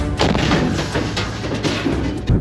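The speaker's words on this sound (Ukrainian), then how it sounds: "Постріл!" A heavy artillery gun fires a shot that booms at a frontline position, followed by rumbling reverberation and dense low-frequency noise throughout; loud and close, with a second thump near the end.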